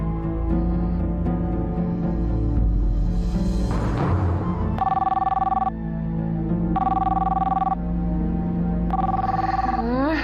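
A telephone rings at night in repeated short bursts, clearly audible over a dense, continuous musical soundtrack.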